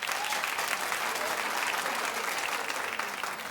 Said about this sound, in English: Clap if you don't like it.